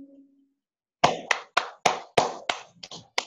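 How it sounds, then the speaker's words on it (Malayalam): Children in a kindergarten class clap their hands after a short hum, about eight sharp claps in an uneven rhythm, close and clear against an otherwise quiet room. "Clap all of U."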